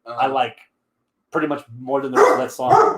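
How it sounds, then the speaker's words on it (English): A pet dog barks indoors during a casual podcast conversation about songs, the bark landing between and under the voices of people talking. "But sorry, that's the dog."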